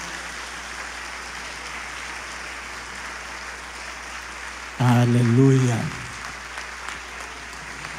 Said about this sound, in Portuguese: Dá um grande salve de palmas ao Senhor.